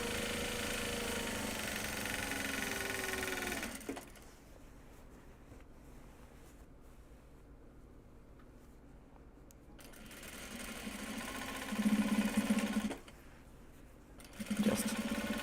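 A sewing machine whirs steadily while stitching project bags from Japanese fabrics, running in long loud stretches broken by quieter pauses and a couple of short motor bursts near the end.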